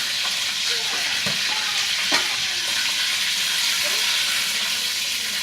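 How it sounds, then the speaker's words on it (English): Steady sizzling of chicken sautéing in a pan, with scattered sharp pops of grease crackling throughout, fairly close and continuous. "Grease popping."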